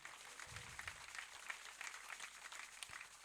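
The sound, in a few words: church congregation applauding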